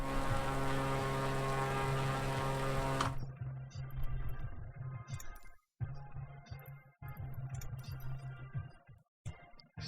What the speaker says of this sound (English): It's just so loud that engine.